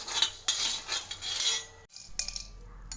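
A spoon scrapes and clinks steadily in a dry pan as coriander seeds and spices are stirred and roasted without oil, with close, uneven metallic scratches and taps.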